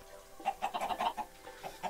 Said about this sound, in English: So lots of chickens on the way.